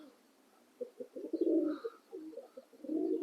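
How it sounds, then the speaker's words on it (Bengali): Pigeons, including white ones kept on a rooftop, cooing in soft low repeated phrases, fairly close, swelling twice with short pauses between. "তো দেখুন এই সাদা পায়রাগুলো উঠছে, আর 4টা পায়রা পুরো উড়াচ্ছি।"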